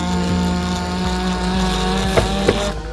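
A power drill runs steadily close by, boring into a camera mount on a BMW F30, its whine holding for about three seconds with a couple of brief sharp knocks near the end.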